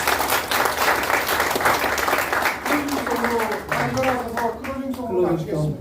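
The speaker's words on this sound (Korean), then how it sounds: "하나님께 감사의 박수를 드렸으면 좋겠습니다" Audience applause rings out at a church ensemble's monthly gathering, a broad steady wash of clapping that fades as voices and a melodic tone rise toward the end.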